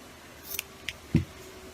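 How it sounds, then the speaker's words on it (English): Scissors snip through knitting yarn while finishing the base of a hand-knit cat bed: a couple of quiet, close clicks followed by one soft, dull cut, with no talking. "then you can actually cut it with scissors"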